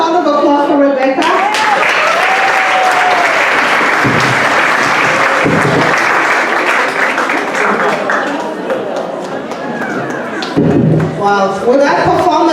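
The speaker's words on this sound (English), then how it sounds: "Another round of applause for Rebecca." An audience applauds after a performance at an event, loud sustained clapping with some thumps, while a voice speaks over it and the applause swells again near the end.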